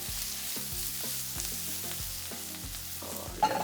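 Garlic sizzles steadily in a pan as it is shaken, a continuous loud frying hiss with repeated low rattling pulses from the pan moving, ending in a brief clatter.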